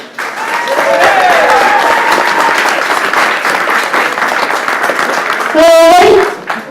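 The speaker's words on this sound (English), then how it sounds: "let's give him the biggest round of applause we can" An outdoor crowd at the Rockingham 2014 touring car race meeting claps loudly and steadily for a driver Q&A guest, dense sustained applause with a voice calling out near the end.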